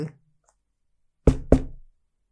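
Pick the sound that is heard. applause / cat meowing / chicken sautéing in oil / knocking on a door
knocking on a door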